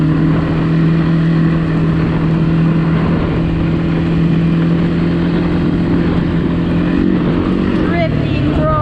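ATV engine droning steadily while riding, loud and close with a constant low hum that shifts slightly in pitch near the end.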